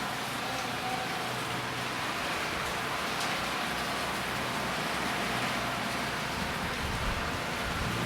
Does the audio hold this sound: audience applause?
no